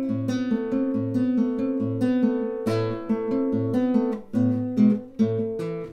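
Acoustic guitar played with Travis picking on a simple tune, plain version without embellishment; alternating bass notes under a plucked treble melody, close and clear, steady rhythm, no talking.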